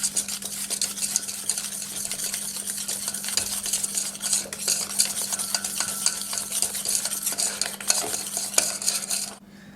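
Egg yolks, sugar and cornstarch get whisked together in a bowl, rapid continuous scraping and clicking of the whisk against the sides, close and steady for several seconds before stopping abruptly.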